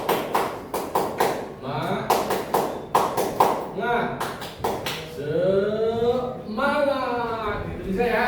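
A classroom group claps the 'tepuk semangat' pattern: short bursts of sharp, close claps in rhythmic sets, alternating with voices chanting and talking between the rounds.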